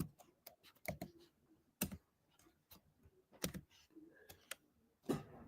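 Keys clatter on a computer keyboard in irregular bursts of clicks and taps, close and fairly quiet, with no voices.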